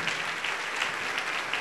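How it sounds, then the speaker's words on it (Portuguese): A church congregation claps together in a steady, dense burst of applause that fills the room evenly throughout, with no voices standing out. "Vamos aplaudir mais ao Senhor."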